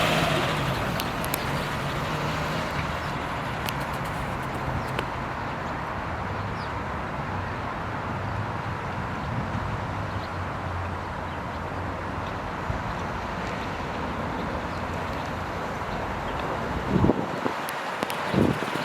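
A 1954 Mercedes-Benz 220A Cabriolet drives along with a smooth, steady engine hum under heavy wind buffeting, and the level stays even until a couple of louder bumps near the end.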